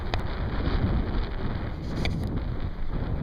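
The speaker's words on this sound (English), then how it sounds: "I hope that the wind sound from the regular wind isn't blocking that noise out" Wind buffeting a microphone outdoors beside a closed stretch of Route 66, a loud low rumbling roar that surges and dips unevenly, with a couple of faint brief clicks and no speech.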